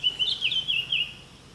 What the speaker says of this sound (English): Beautiful songbirds.